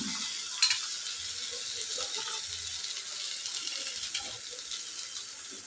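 Soft, steady sizzle of okra sautéed in a pan with salt and turmeric, with faint scraping stirs running throughout at low volume.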